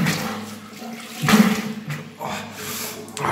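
A shower runs with cold water, a steady loud rush of spray with splashing surges that swell and ebb close by, no voices.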